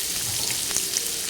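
Ground onion frying in a hot pan with oil, a close, steady crackling sizzle with a brief soft stir or splash partway through, no voices.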